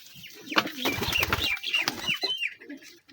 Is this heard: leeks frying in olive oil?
no